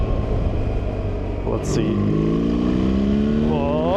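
A BMW R1300GS fitted with a DNA stage 2 air filter, running in dynamic mode, rumbles loudly up close and then revs, the engine note climbing steadily while someone speaks briefly over it.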